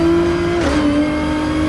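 A Nissan GT-R race car engine in a racing video game on a Kyoto circuit, droning loud and steady close by as it accelerates, with a brief surge in the middle and no talk.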